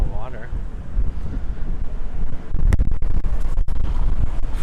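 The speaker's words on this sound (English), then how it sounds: "It's windy. I don't know if you guys can hear it." Strong wind blows across a pier in San Francisco, buffeting the microphone with loud, gusty rumble that grows heavier partway through. A voice speaks briefly at the start.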